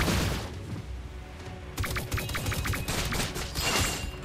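Gunfire in a mobile game match: bursts of rapid shots mixed with thumping impacts, dense and continuous, under a commentator's voice.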